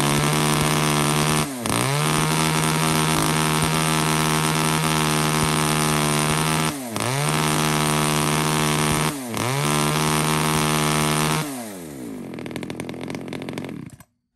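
Used Japanese-import Hitachi chainsaw fired up for a test run, its two-stroke engine buzzing hard and steady, dipping briefly three times as the throttle eases, then winding down and cutting off at the end.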